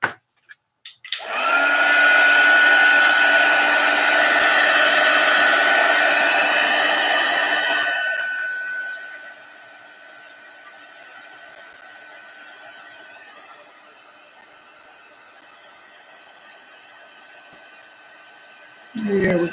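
Heat tool blowing hot air over white pigment ink on a card, a loud steady whirring blast for several seconds that then drops to a quieter hum before a brief burst at the end.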